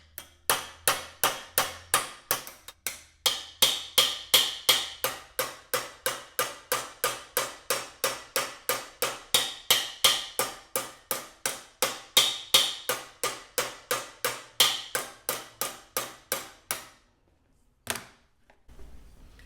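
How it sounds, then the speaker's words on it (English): Steady, rapid hammer blows shaping a MIG gun trigger housing clamped on a pipe, dozens of sharp ringing metallic strikes close by in an even rhythm, pausing briefly near the end, with no talking. "I'm just going to take ye old hammer and just"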